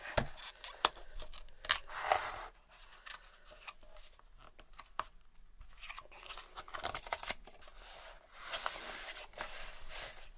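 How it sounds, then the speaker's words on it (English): Cardboard being torn from an eco-friendly box, a series of crisp ripping and scraping bursts close up, with several loud tears near the start and more scattered rips later. "Tear off."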